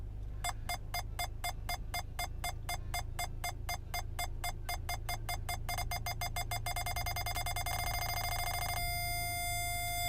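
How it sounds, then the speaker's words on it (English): An aftermarket parking sensor on a Mercedes GLC300 in reverse beeps in steady pulses that speed up until they merge into one constant, unbroken tone, over a low engine hum. "When you hear that constant beep, you know you're within 12 inches of the object"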